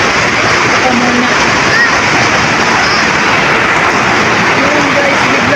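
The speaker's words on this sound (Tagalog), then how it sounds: "biglang buhos ng ulan guys" A sudden heavy downpour of rain on a very hot day, a dense, steady roar of falling water that stays loud and unbroken from start to finish, with no voices over it.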